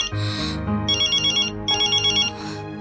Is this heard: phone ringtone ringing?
yes